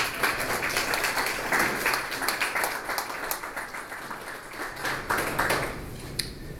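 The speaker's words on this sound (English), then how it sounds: "give yourselves a round of applause." A crowd at a going-away party for an Oak Park trustee applauds: dense, sustained clapping fills the whole stretch at an even, fairly close level.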